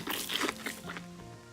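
A designed chewing sound effect played without its low-pass filter, giving wet, crunchy, sloshing mouth noises in a close, fairly quiet run of irregular bites lasting under two seconds.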